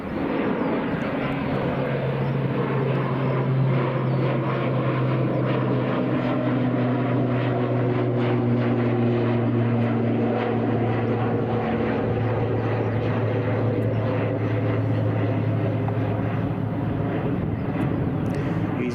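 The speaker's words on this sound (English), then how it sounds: "Logan Air, ATR 72-600." A Loganair ATR 72-600 turboprop airliner drones loudly and steadily near an airport runway, with strong propeller hum and shifting engine tones that sustain throughout.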